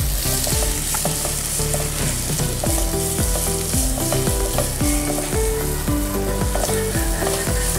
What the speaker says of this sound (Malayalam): നല്ലോണം വഴറ്റിയെടുക്കാം സവാള